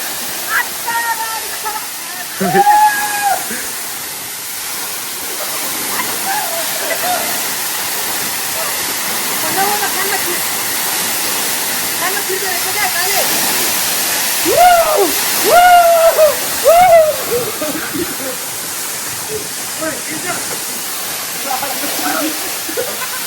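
A waterfall splashes over rocks, a loud, steady rushing roar that fills the whole scene while several voices call and shout over it now and then.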